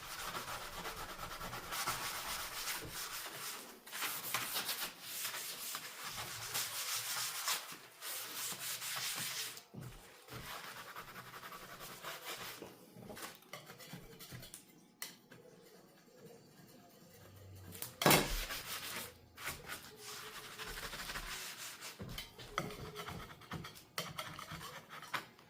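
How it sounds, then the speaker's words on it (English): A heavy duty scouring pad scrubbing greasy kitchen cabinets, with repeated rough rubbing strokes in irregular bursts, close and continuous with brief pauses and no speech. "Got a heavy duty scouring pad here."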